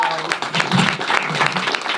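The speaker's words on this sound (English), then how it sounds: "Y'all clap it up for her" An audience at a live meet-and-greet event claps for a guest, a burst of mixed claps and cheers with voices talking over it.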